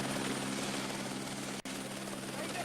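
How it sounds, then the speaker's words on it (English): A helicopter flying away, its steady whirring rotor drone filling the scene at moderate volume with a brief dropout partway through, continuous and without speech. "as the helicopter leaves"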